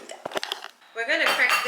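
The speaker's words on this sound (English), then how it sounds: "We're going to crack this up into the bowl first." Eggs cracked into a kitchen bowl for baked eggs: a few quick, close taps and clinks of shell against the rim, followed by a brief wet pour, with a person talking over part of it.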